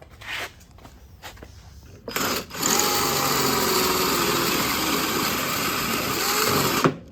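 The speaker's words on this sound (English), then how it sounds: "So we're just going to grab the drill" A handheld power drill bores through a sheet metal go-kart fender mount. A few short clicks and handling noises come first, then a loud, steady high-pitched whine that runs for about five seconds and cuts off at the end.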